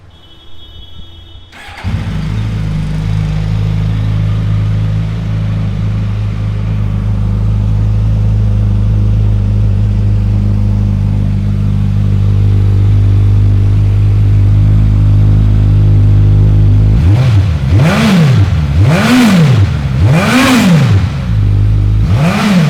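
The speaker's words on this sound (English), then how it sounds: "That then is the sound of the Katana." A 2022 Suzuki Katana motorcycle starts and idles with a steady, loud exhaust rumble, then gets four quick throttle blips near the end, each rising and falling sharply, heard up close with no talking.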